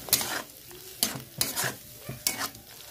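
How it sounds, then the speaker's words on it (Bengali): A spoon stirs chili and turmeric powder into amra (hog plum) chutney in a pan, four rhythmic scraping strokes over a soft sizzle, close and clear with no voices. "দিয়ে একটু নেড়ে চেড়ে নেবো।"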